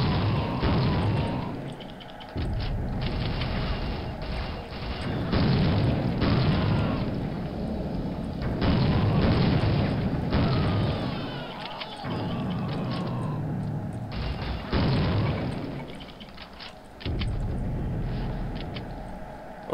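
NATO bombing in the video game Soldier of Fortune, set in Gračanica, Kosovo: sustained loud rumbling blasts and booms rolling on continuously with brief dips, and no talk over it.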